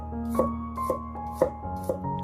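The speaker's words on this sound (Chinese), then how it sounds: "接下来准备一些大蒜子切成薄片，大蒜我们可以多切一点" A knife slices garlic cloves into thin pieces on a cutting board, giving four distinct, evenly spaced chopping knocks close by over a low, steady background hum, with no talking.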